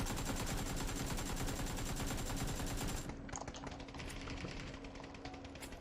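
AK assault rifle without a compensator in the PUBG video game, firing a loud sustained full-auto burst for about three seconds, then sporadic shots and clatter.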